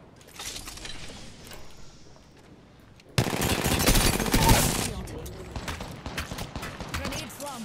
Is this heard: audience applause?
no